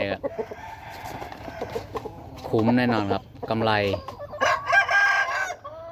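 A rooster and hen from a breeding pair cluck and crow nearby, with several loud drawn-out crows in the second half over softer clucking, while someone talks in between.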